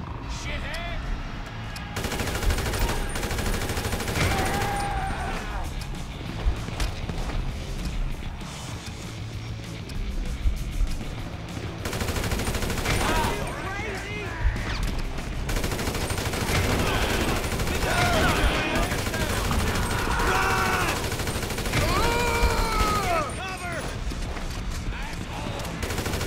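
Gunfire in Grand Theft Auto V on PC, rapid bursts of shots over busy game noise of traffic and music, with shouting voices and talk mixed throughout.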